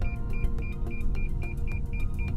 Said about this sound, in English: You also have parking sensors here as well, as you can see.